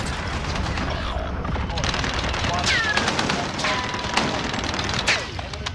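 Rapid video game gunfire, dense bursts of automatic weapon fire and sharp single shots overlapping throughout, loud and continuous with a few ringing ricochet-like whines mixed in.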